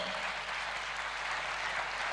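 Theatre audience applauding at a traditional ashugh music concert, a steady, dense wash of clapping from a large crowd continuing evenly throughout, fairly loud and with no voices over it.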